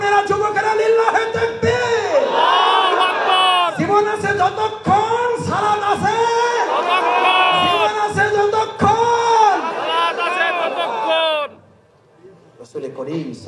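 A large crowd at a religious gathering roars a takbir response in repeated loud, rhythmic chanted shouts over about eleven seconds, then falls quiet near the end.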